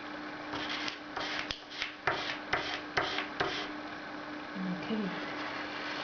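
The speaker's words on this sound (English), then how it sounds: "So now I'm going to start scraping again." A tool scraping off the top layer of paint in a series of about eight quick, rasping upward strokes close by, each with a short scratchy burst. A voice is heard briefly near the end.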